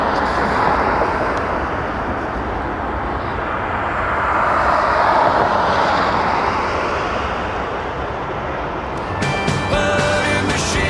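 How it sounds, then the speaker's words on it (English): An Air Transat Airbus A330 airliner departs Toronto Pearson Airport with a loud, sustained jet roar that swells and fades gently over the clip. A sharper mechanical whine enters near the end, with no talking. "A330 Air Transat 214 to Istanbul. The butter machine departing."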